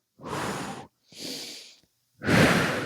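Three slow, deep breaths during a beginner Pilates inner-thigh workout: two long exhalations then a strong final breath, close and fairly loud, each a broad airy rush separated by brief silences, with no talking.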